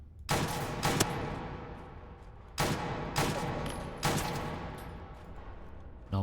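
Gunfire in a gritty hardcore open-world Fallout 4 modlist styled after Tarkov and STALKER: loud, close broadband bursts in three clusters of two or three rapid shots each, with short decaying tails between them and no talking.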